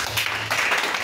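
A church congregation applauds and cheers to acclaim Jesus during a worship service, a dense wash of clapping and voices lasting about a second, steady and fairly loud throughout.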